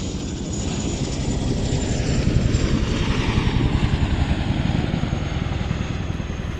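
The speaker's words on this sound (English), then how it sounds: "this particular Chinook Piator, it's the RAF's very own Chinook from Odium" An RAF Chinook helicopter from Odiham thunders steadily overhead, its heavy rotor thump and engine roar loud and continuous, swelling slightly midway.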